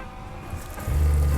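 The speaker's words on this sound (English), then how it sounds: "The water is running." Water from the tap of a Dutchman Kodiak Ultra Lite caravan, pump-fed, starts about two-thirds of the way in as a steady, close, low rushing flow after a quiet hum.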